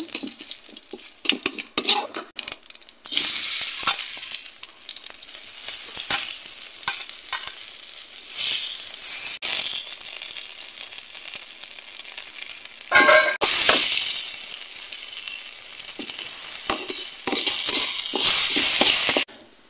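Whole cumin seeds crackle and sizzle in hot oil for tempering, with sharp crackles and metal utensil clinks at first, then steady loud frying noise with stirring scrapes, stopping abruptly at the end.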